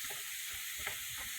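Seasoned ground turkey sizzles in a frying pan while a utensil stirs it, giving soft scraping strokes over a constant bright hiss of frying, close and moderately loud, with no voices.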